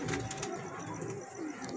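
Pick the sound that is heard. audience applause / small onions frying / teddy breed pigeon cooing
teddy breed pigeon cooing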